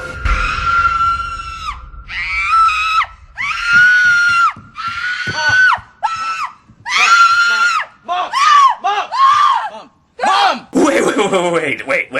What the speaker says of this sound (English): causes Laurie Strode to wake up screaming